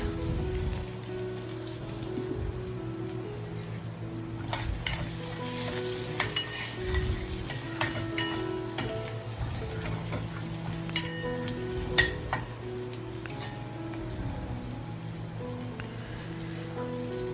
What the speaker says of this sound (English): in the same pan, I have added chopped ginger and garlic